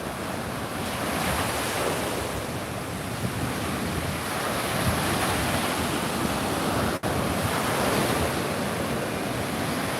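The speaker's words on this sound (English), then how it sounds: "the waves are spectacular today." Ocean waves break on the shore in a loud, continuous roar of surf, with heavy wind buffeting the microphone throughout and a brief dropout near the end.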